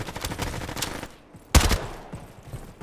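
Rapid gunfire in a Roblox shooting game: dense bursts of automatic fire, then a brief lull broken by one loud, close shot followed by more shooting.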